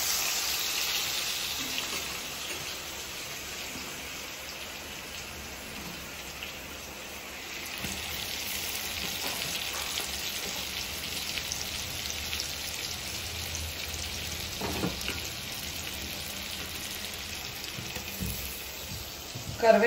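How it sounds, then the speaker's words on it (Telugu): Onions and green chillies frying in hot oil give a steady hiss and crackle, fairly soft and close, for the whole stretch, with a few brief clatters toward the end. "ఇప్పుడైతే ఉల్లిపాయ పచ్చిమిర్చి వేసుకున్నామండి"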